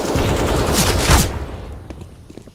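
A burst of rapid Counter-Strike gunfire from a pro esports match crackles densely, then trails off into scattered single shots and quieter pops.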